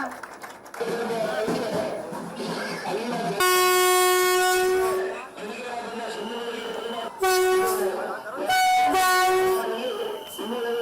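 A Vande Bharat train pulls into Yadgir station, its loud horn blaring in two long bursts over the rumble of the arriving carriages, with talk and crowd noise around it.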